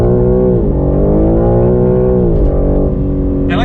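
A BMW G80 M3 Competition accelerates hard from inside the cabin, its engine note rising loud and continuous through the rev range, dipping briefly at a gear change, then climbing again.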